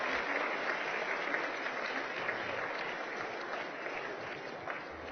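Steady, sustained applause from a small group, clapping evenly and continuously at moderate distance without pause.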